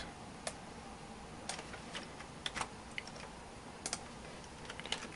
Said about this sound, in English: And you're going to type the following text.